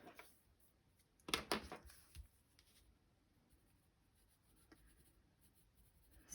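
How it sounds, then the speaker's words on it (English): Graphite pencil shading on paper, a quiet close scratchy burst of rapid strokes early on, then faint sporadic light scratches and near silence. "So I always just do a little bit of graphite kind of in the little corners of these fluxes."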